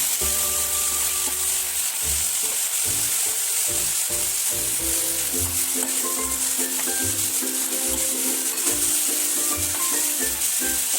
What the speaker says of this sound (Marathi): आता खेळफुलाची भाजी घालूया.